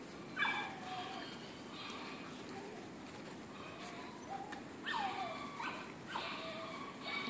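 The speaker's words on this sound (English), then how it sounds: "These are Harlan's puppies." Young puppies make faint, high, wavering whimpers in short bursts, a few cries spread across a quiet background.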